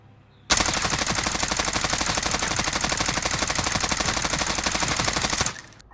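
XM4 rifle in Call of Duty Warzone fires one long, unbroken burst of rapid automatic shots, loud and close, starting abruptly and cutting off after about five seconds.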